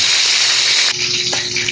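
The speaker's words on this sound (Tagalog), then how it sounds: "hintayin na natin maluto guys. Ating pritong tilapia." Tilapia fries in a pan with a dense, steady hissing sizzle close up. It shifts slightly partway through before cutting off abruptly.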